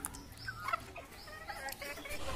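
Bantam hens cluck softly and intermittently at a poultry coop in Lucknow, short faint calls scattered over low background noise.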